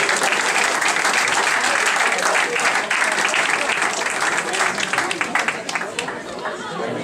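A big round of applause fills a football club awards night, dense and sustained throughout, with crowd chatter mixed in beneath the clapping.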